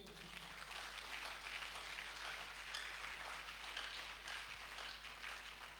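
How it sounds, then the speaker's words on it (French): Congregation clapping in a church service, a steady, even wash of applause from many hands that stays at a constant moderate level throughout, heard from some distance. "Est-ce qu'on peut l'applaudir?"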